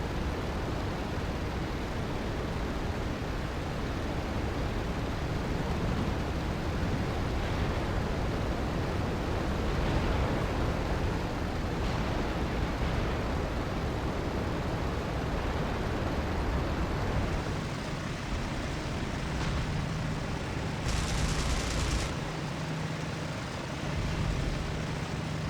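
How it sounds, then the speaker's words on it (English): Flak bursts and anti-aircraft fire over a base in IL-2: Battle of Stalingrad, a dense continuous roar of distant explosions and engine drone with a louder hiss burst near the end, no talking. "with the explosions of flak puffs and the streams of anti-aircraft fire coming off the base"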